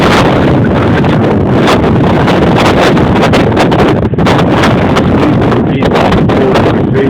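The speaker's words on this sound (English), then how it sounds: "looking at this blizzard that come through here last night. It is just blowing." A blizzard blows outside a door on a snowy town street, with loud, continuous wind buffeting and roaring close to the microphone and sudden gusts throughout.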